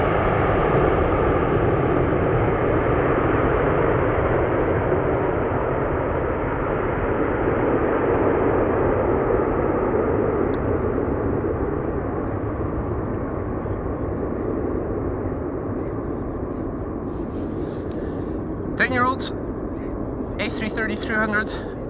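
An Airbus A330-300 departs Amsterdam Schiphol with a broad, sustained jet roar that slowly fades as it climbs away, and a few short voices come in near the end.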